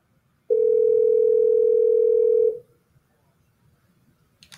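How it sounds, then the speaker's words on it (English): A telephone dial tone while a call is redialed: a steady, loud, pure electronic tone holding for about two seconds before cutting off, followed by near silence with a faint click at the end. "Mike, you got to double dial this one."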